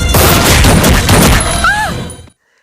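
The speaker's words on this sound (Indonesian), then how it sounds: "3 orang tersebut berhasil menembak Surya, kemudian menembaki semua penghuni rumah tersebut." Loud, dense gunfire from a film scene in which three men shoot up a house, a rapid fusillade of overlapping shots that fades out into silence.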